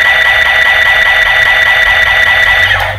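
A Kyoryuger DX Plezu-oh toy spaceship sound effect held down keeps running as a loud, continuous electronic tone with a steady pulsing texture, close up, tapering off at the end.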